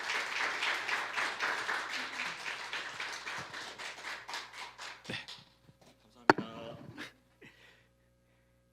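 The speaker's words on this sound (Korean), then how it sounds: "박수 쳐주시고요." A church congregation applauding at a Sunday service in Houston, with steady clapping that fades out after several seconds, followed by a sharp tap and a few faint sounds.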